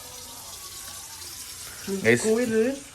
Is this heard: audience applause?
no